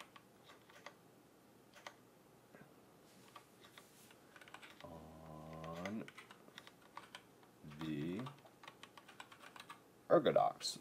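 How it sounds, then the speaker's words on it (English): Keys click and tap on an ErgoDox EZ ortholinear split keyboard in quiet, scattered bursts, with brief tonal sounds and a person's voice breaking in partway through. "Of typing"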